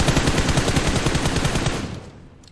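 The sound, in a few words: gunfire in the video game PUBG Mobile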